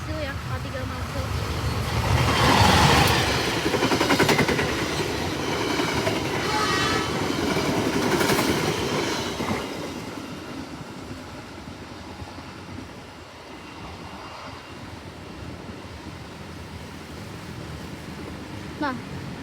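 The Serayu passenger train, made up of K3 Milestyle economy cars on the Purwokerto to Pasar Senen run, rumbles past with clattering wheels and a horn, loud at first then fading, while someone talks over it.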